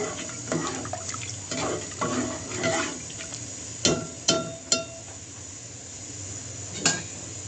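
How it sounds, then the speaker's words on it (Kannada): Cooked vegetable and lentil water is poured into a pot of rasam. The soft watery splashing comes with a few sharp metallic clinks of a vessel, close and fairly quiet. "ಆ ನೀರನ್ನ ಆ್ಯಡ್ ಮಾಡ್ತಾ ಇದ್ದೀನಿ."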